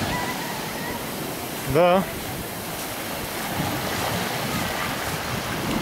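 Surf breaking on a black sand beach at Puerto Naos, La Palma, Canary Islands, a steady wash of waves with wind noise, while a voice briefly says a word near the start.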